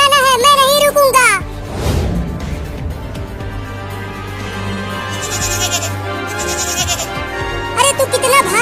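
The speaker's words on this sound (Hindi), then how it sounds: "अरे रुक जा बकरी का बच्चा, उधर मत जा।" A cartoon goat kid bleats in a quick, wavering series at the start, then loud busy background music and effects take over, with more brief bleats near the end.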